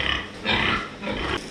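A farm pig grunts in a pen during fly treatment, with two or three close, rough grunts in quick succession and no talking.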